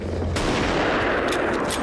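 Gunfire in the Saving Private Ryan bell tower scene, a loud sharp rifle shot followed by further cracks and rumbling battle noise, dense and continuous, heard up close.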